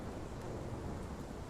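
A thunderstorm in the video game Life Is Strange gives off a dense, rumbling wash of thunder and heavy rain, loud and constant, with no voices over it.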